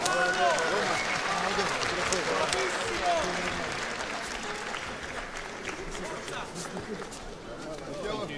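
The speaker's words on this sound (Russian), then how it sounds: "И, конечно же, аплодисменты его сопернику из Италии Микеле Вершинелли." Audience applause fills a sports arena for the Italian fighter Michele Verginelli after a bout decision against Ramazan Ramazanov, a dense steady wash of clapping mixed with crowd voices and an announcer's talk.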